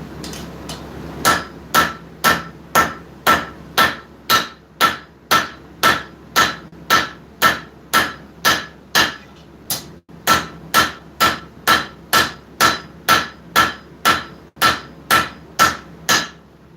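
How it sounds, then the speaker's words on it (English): Steady, ringing rounding-hammer blows on a steel knife blade being forged, about one or two per second, loud and close, continuing in a long regular rhythm with a brief pause midway. "round side of that rounding hammer. We're going to pinch that lower half of the blade again"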